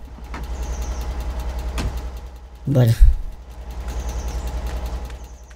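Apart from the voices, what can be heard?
truck engine left running, from the video game Alaskan Road Truckers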